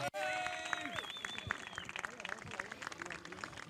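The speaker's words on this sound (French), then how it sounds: "Big round of applause for our Italian friends." Crowd applause for the Italian team at a 24-hour karting race trophy ceremony, a faint, steady patter of clapping heard beneath an announcer speaking over a PA.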